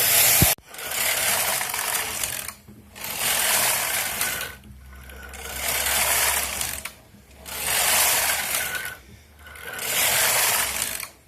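An SK 155 knitting machine works a Fair Isle hat, its carriage making loud, steady ratcheting passes of about two seconds each, broken by short pauses as it reverses direction, with no voices.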